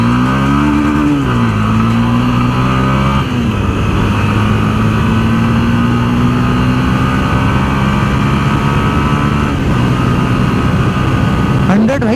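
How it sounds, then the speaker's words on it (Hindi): A Honda CB 300F motorcycle is ridden at full throttle, its engine note rising through the gears with brief dips at the shifts, loud and close over a continuous rush of wind. "यहीं से ना एक बार इस बाइक को फुल भी करेंगे"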